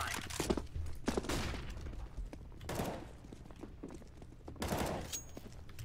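Gunfire in the Counter-Strike game on the Mirage map: several bursts of sprayed rifle shots, each a cluster of sharp cracks, separated by quieter gaps, with no talk over them.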